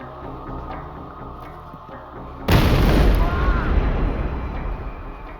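A bomb hidden in a university computer science department coffee room goes off with a sudden loud blast midway, a sustained roaring rumble that follows a quieter mechanical stretch.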